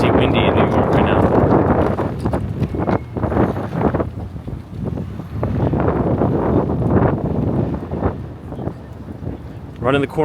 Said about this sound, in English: it's crazy windy in New York right now